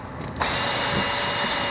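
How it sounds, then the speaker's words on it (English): A power drill spins up with a cleaning brush attached while rebuilding a pressurized ozone reaction chamber, starting abruptly after a brief pause and then whirring steadily and close. "we have a brush that connects to our drill."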